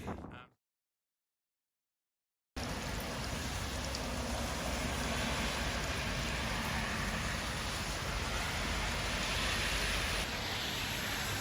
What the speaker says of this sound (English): Yeah, it's raining. Pretty heavily.